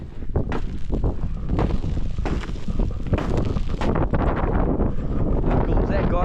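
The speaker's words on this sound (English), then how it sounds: "So darn windy." Strong gusts blast against the microphone in icy conditions in New Zealand's central North Island, loud rumbling waves building toward the end, with a voice partly buried beneath the roar.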